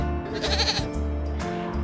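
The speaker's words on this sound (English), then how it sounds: "Our next animal is goat." A goat bleats twice in short, close, loud calls, set against a steady low backing of music.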